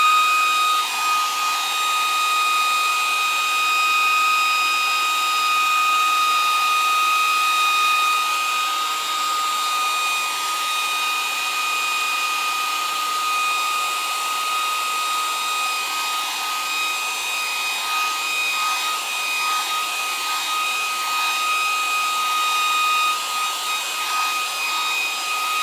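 A hair dryer blows continuously at steady speed, a loud, even whirring hiss with a high motor whine that holds unchanged throughout.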